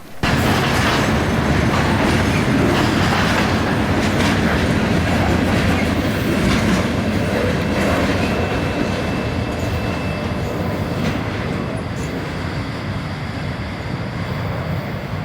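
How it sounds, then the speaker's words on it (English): A freight unit trash train bound from New York City to Mingo Junction, Ohio rolls past on the rails in Pennsylvania, its wagons making a loud, continuous rumble and clatter close by that slowly eases off toward the end. "V is a New York City to Mingo Junction, Ohio unit trash train."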